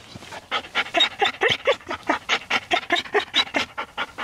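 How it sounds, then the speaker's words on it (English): A high-drive dog panting hard and fast at close range, a quick, regular series of heavy breaths with no other sound. "He's a little bit of a high drive dog, to say the least."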